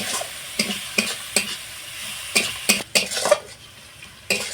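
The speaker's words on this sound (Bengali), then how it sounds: "খুব সামান্য একটু জল দিয়ে দিচ্ছি দিয়ে এই মশলাটা আরেকটু কষিয়ে নেব" Spice paste with a splash of water sizzles in a pan for a Bengali teasel gourd dish, while a spoon scrapes and knocks against the pan in irregular, close strokes over a low, steady fry.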